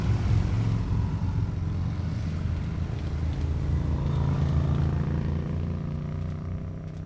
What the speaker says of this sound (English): Hayabusa with a Unigo trailer on the back.